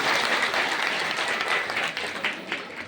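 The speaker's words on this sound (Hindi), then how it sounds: "पूजा ओ बजाओ ताली, दीपिका ने स्वीकार कर दिया" Applause from wedding guests during a Hindu marriage ceremony, steady dense clapping that carries through the whole moment and thins slightly toward the end, fairly close and loud.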